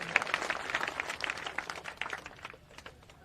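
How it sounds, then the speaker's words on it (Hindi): A political rally crowd claps for a few seconds, a faint patter of hands that thins out toward the end. "तालियां बजाइए बढ़िया से।"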